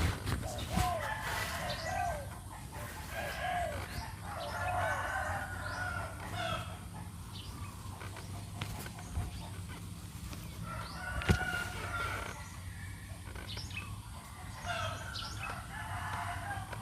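Large doves call faintly in the distance over a low background hum, with repeated cooing phrases coming and going.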